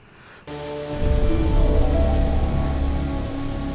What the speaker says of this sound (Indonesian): Angin badai yang menerpa kini menumpahkan air hujan.